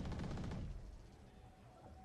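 Gunfire in a Valorant pro match between G2 and NRG: a dense burst of shots packed into the first three-quarters of a second, then fading into a quiet tail with a faint lingering tone.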